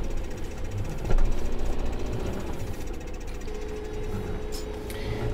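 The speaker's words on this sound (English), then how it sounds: "That tractor's a bit in the way." Tractor engine in the Farming Simulator 2015 game, a steady rumbling, knocking drone that runs throughout at moderate level.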